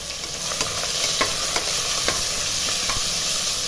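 About 300 g of onions fry in a pot for prawn biryani. A steady, hissing sizzle runs throughout, with light, regular clicks of a stirring spoon tapping the vessel.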